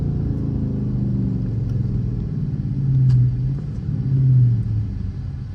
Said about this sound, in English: I don't even know if y'all can hear these downshifts